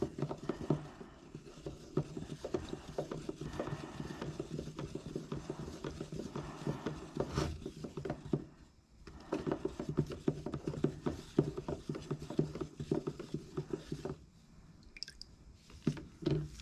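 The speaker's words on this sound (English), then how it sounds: "I'm gonna give it 10 more stirs. Then 10 the other way." Repeated soft scraping and sloshing as a stick stirs thick automotive primer in a cup, with rhythmic strokes and a brief pause midway.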